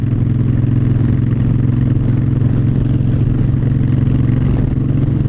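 A 2009 Harley-Davidson Fat Bob cruising on an afternoon ride, its V-twin engine a steady, loud low rumble with constant drone and faint clatter throughout, no voices.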